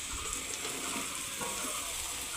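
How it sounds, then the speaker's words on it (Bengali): Ridge gourd pieces drop into potatoes frying in oil in a wok, giving a steady close sizzling hiss that runs without pause and with no voices. "এবার ঝিঙেটা দিয়ে দিচ্ছি।"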